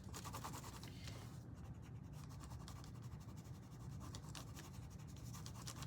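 Pencil shading strokes rub across paper while drawing an apple in a mixed media still life, a steady soft continuous scratching that carries on evenly with no pauses.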